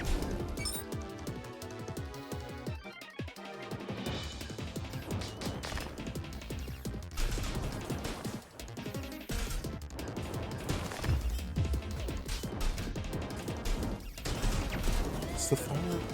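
Turrets firing in the game Lea, dense rapid shots and impacts layered with music and game effects, with a voice speaking over them.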